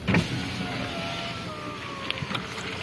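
A car drives slowly along a rough country road beside a ravine: a faint, steady engine hum with some thumps and bumps near the end, and no talking.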